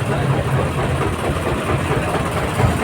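A steady, low diesel engine rumble from a new HDM 57 tractor idles continuously close by at a tractor market, droning evenly without rising or falling.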